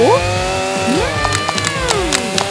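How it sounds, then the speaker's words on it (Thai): A small portable electric saw cuts through chocolate, its whining motor pitch sliding up and down over a steady drone, with brief gritty bursts as the blade bites, loud and close. "เลื่อยไฟฟ้าแบบพกพา จะลุยเลยนะ"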